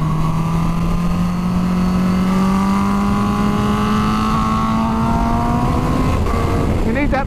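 Supercharged motorcycle accelerating hard, its engine pitch climbing steadily in a long rising whine through the gears, loud and close, then easing off near the end as a voice briefly cuts in.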